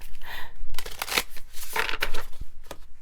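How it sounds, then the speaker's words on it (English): A deck of tarot cards is shuffled by hand close by, giving bursts of dry riffling and papery slaps in quick irregular rhythm, with brief pauses between them and no talk over it. "Gotta shuffle this again."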